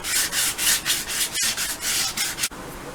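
Steady back-and-forth sanding strokes scraping against a metal stock Camaro rim, close up and rhythmic, with a brief pause near the end.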